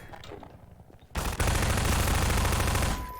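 SMG fire in Half-Life 2 begins with a few scattered shots, then breaks into a loud, sustained automatic burst lasting about two seconds.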